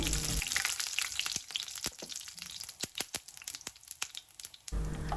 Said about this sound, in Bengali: তেলটা গরম হওয়ার পরে আমি ফোড়ন দিচ্ছি আস্ত গরম মশলা দিয়ে